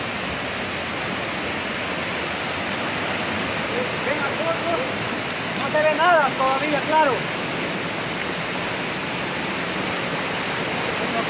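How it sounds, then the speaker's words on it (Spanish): A river swollen by heavy rains rushes with a loud, unbroken roar close by; a voice speaks briefly partway through, nearly drowned by the water. "El río va grande, ¿verdad?"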